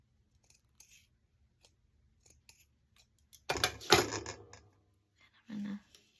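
Scissors trim a piece of cheesecloth in half for holiday tags, giving a close burst of snipping and rustling after a few faint ticks, with a short rubbing noise near the end.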